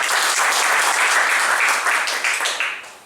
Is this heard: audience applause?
yes